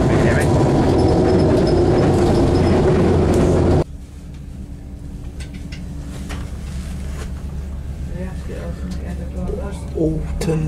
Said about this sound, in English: Walk around here when the train moving, so you can hear the engines.